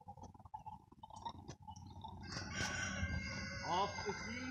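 Backyard chickens cluck nearby while a rooster lets out a loud, close crow in the second half, set against low outdoor background noise.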